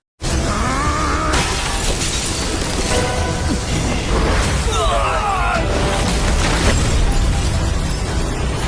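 A loud, sustained roaring blast with crackling bursts, layered over dramatic sound effects and rising tones, continuing for several seconds.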